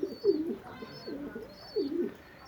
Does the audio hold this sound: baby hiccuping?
no